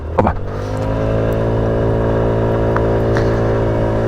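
A Sym Symphony 50 scooter with a 50 cc engine and 16-inch wheels held at full throttle while climbing uphill, a steady loud buzzing drone after a brief opening bump.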